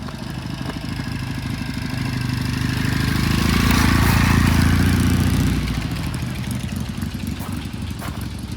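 A 750 Norton motorcycle rides in under power on gravel, its engine chugging steadily and swelling louder as it approaches, then easing off, with no voices.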